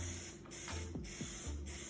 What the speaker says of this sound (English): Get my butter flavored cooking spray. And into the pan we go.